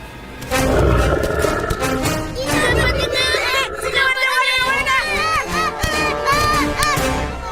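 Loud lion roaring and growling while hunting, over a chaotic din of shrieks and cries, with voices shouting in the mix, in a cartoon.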